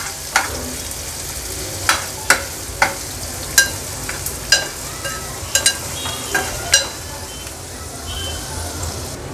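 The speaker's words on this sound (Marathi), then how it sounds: "कांदा ॲड केल्यानंतर गॅसची फ्लेम लो करून कांदा छान शिजवून घ्यायचा आहे" Chopped onion cooks in oil over a low flame for an Agri Koli–style lobster curry, a constant gentle sizzle broken by sharp, regular spatula taps and scrapes against the pan roughly every second.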